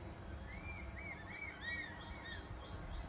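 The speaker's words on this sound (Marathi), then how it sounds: "पक्ष्यांचा किलबिलाट" Birds chirping outside a window in a Konkan setting, several quick high tweets and short song phrases, faint and slightly distant, over a low steady outdoor hum with no voices.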